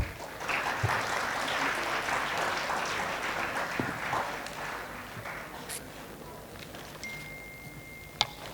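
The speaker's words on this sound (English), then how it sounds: "Huge round of applause" An audience applauds at a corporate summit panel on retail and FMCG. The clapping is dense and sustained, then gradually thins out, with a sharp knock near the end.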